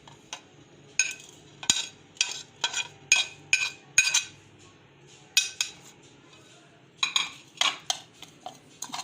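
Ground coriander, crushed cumin and salt are mixed in a bowl with a spoon, giving a run of bright clinks and scrapes in uneven bursts, close and clear, with short pauses between strokes.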